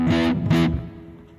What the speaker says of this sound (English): So this one's more like a distortion.